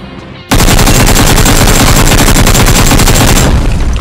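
Gunfire in PUBG Mobile, a loud, sustained automatic burst of rapid, close shots that starts abruptly and runs for about three seconds before cutting off.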